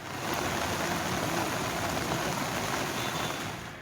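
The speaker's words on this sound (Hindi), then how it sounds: "कोटपूतली में मूसलाधार बारिश से शहर के कई इलाके जलमग्न हो गए हैं।" Heavy monsoon downpour in Kotputli, Rajasthan, pours as a dense, continuous roar of rain on surfaces, loud and unbroken throughout with no voices.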